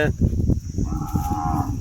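A single low cow moo rises and holds steadily for about a second, with faint background noise before it.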